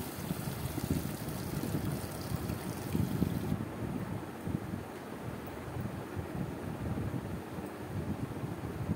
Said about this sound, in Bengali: এবার দিয়ে দিলাম পরিমাণ মতো জল